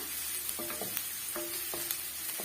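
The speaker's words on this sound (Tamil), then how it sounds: "இது போல நம்ம சால்ட் சேர்த்து நல்லா வதக்கி விட்டுடலாம்" Food sautéed with salt sizzles softly in a frying pan, a steady faint hiss broken by several light scraping stirs and small clinks of a spatula, with no voices.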